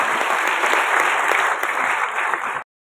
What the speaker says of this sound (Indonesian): Aplaus untuk beliau.